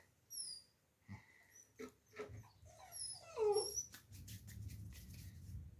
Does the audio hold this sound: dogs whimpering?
yes